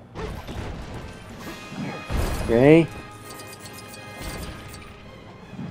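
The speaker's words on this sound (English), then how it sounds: "Start smashing all of this." Lego bricks smashing apart in Lego Batman 3 Beyond Gotham, one clattering crash with a bright tonal pickup chime, surrounded by lighter ticking hits and someone talking.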